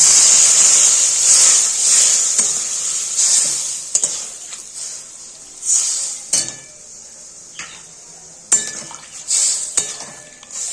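Water poured into hot oil with mustard seeds hisses loudly at first, then fades into a softer sizzle, with several clinks and scrapes of a utensil against the pan and no talking.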